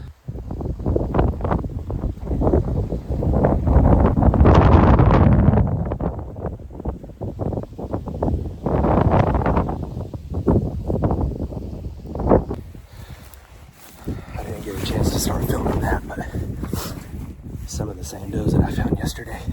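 Strong cold wind blasting across open Oklahoma hillsides during a public-land deer hunt, a loud continuous rumble with gusts surging and fading, heard over someone talking close to the microphone.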